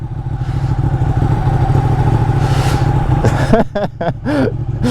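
A sports bike motorcycle engine drones loudly and steadily while riding, with a brief burst of revving near the end and wind rushing over it.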